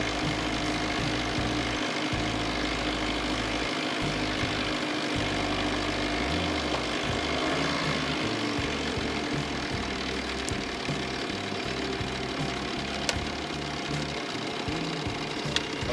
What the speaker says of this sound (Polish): E, silnik jest na wolnych obrotach w tej chwili.